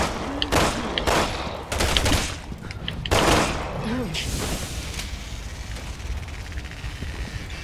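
Gunfire sounds in the video game Resident Evil 6, with several loud, sharp shots in quick succession under a game character's voice, then a steadier background of game noise.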